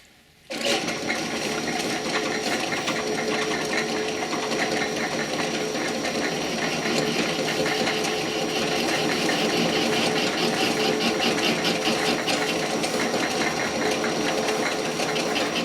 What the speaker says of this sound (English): Just gonna chuck her up in the lathe here and clean the rest of that off of there.